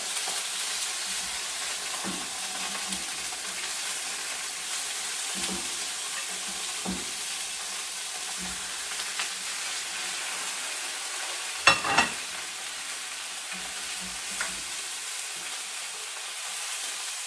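Pork ribs and pork belly sizzle steadily in a pan, a constant frying hiss with occasional soft pops, scrapes and one sharper clatter partway through.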